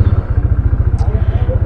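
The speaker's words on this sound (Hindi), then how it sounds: "तो बाइक को करते हैं स्टार्ट।" A motorcycle engine idles steadily near Manali after starting, a loud, close, rapid rhythmic thump with a faint high chirp midway.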